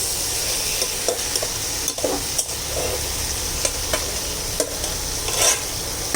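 Koi fish fries in raw mustard oil, a constant bright sizzle with a string of sharp spatula scrapes and knocks against the pan as the fish is turned over, close and alone.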